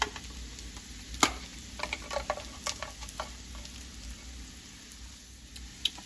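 Liver and onions being stirred in a pan with salt, black pepper and paprika, giving scattered scraping clicks and taps over a soft, steady sizzle, alone without talk.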